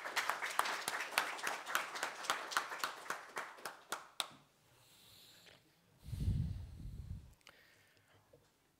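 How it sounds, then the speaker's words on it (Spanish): An audience at a medical society meeting claps together in a dense, rhythmic round of applause that fades out after about four seconds, followed by a quiet room with faint rustling and a brief low thump. "Y un aplauso en su memoria."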